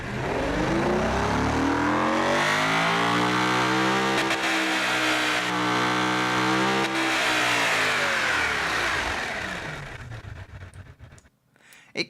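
A big turbocharged engine in a modified hearse revs hard and steadily, rising and falling in a loud sustained roar for about ten seconds before dropping away, with no voices.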